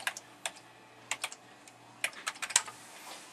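Typing on a computer keyboard while entering data into farm management software, a handful of light close key clicks in short clusters with brief gaps, no speech.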